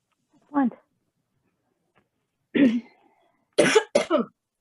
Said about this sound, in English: we can't have coughing on here